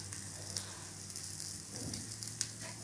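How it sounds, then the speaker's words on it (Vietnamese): Egg on rice paper fries crisp in a pan, a steady faint sizzle with soft crackles and a few sharper pops, close up and alone. "Ở đây mình chiên cho cái bánh, cái trứng này nó giòn, thiệt giòn luôn nha các bạn."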